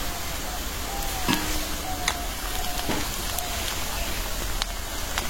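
Green chilies and onions fry in oil in a pan with a steady, close crackling sizzle, marked by a few sharp ticks and pops throughout.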